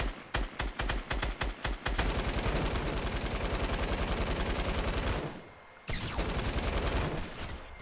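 Rapid bursts of gunfire from the video game Fortnite, starting as a string of separate close shots and then merging into a long, loud sustained volley that cuts out briefly before resuming.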